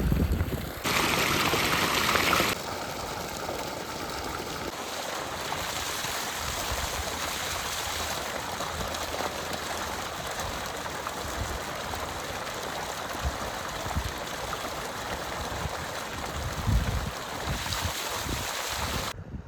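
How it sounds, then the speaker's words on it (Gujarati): Water pouring from two pump motors into a farm field channel in a summer village makes a steady, broad rushing wash, with louder splashing early on and wind buffeting the microphone throughout. "2 મોટરનું પાણી આવે છે જોવા અહીંયા."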